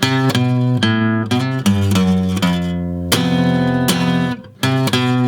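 An acoustic guitar strums chords in uneven, off-beat downstrokes from a song, each strum ringing out bright and full before the next, with no voices.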